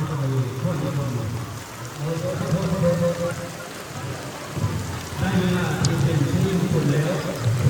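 Steady rain falls throughout an outdoor procession in northern Laos during a Pha Pa merit-making ceremony, a continuous broad patter with low rumbling and faint voices under it.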